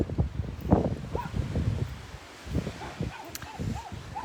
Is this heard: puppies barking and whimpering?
yes